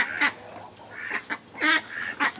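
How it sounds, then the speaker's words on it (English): Farm ducks quack in several loud, close honking calls spaced irregularly, some coming in quick pairs, with no talking. "This is where the ducks live."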